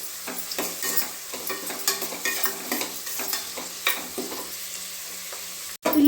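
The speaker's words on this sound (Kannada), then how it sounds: "ಆ ರೀತಿಯಾಗಿ ಈರುಳ್ಳಿನ ಫ್ರೈ ಮಾಡ್ಕೊಳ್ಬೇಕು ನಾವು" Onions fry in oil with spices for a vegetable pulao, a steady sizzle broken by repeated spoon-stirring scrapes, close and alone, ending with a sharp knock.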